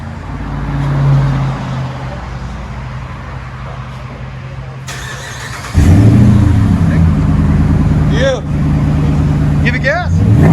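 A RAM 1500 with a 5.7L HEMI and Flowmaster exhaust, resonators kept, idles with a low rumble, then revs sharply louder midway, holding a deep roar as people talk over it.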